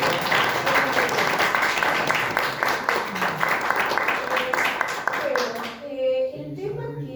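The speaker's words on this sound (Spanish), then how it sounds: "le vamos a agradecer con un aplauso" An audience at a Spanish-language logotherapy lecture claps steadily in dense applause that cuts off near the end, leaving background voices talking quietly.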